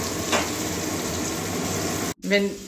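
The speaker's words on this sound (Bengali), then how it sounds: "ওই তেলের মধ্যে আলুটা ভেজে নেব" Potato pieces frying in hot oil for a soybean and okra curry, giving a steady, loud, close sizzle throughout, with a brief drop near the end before the crackling resumes.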